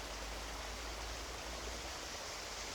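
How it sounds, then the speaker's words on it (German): A mill stream (Mühlgraben) babbles steadily, a dense, continuous broadband rush of flowing water with no breaks, filling the scene evenly at moderate level. "folgen dem links von uns gemütlich dahin plätschernden Mühlgraben"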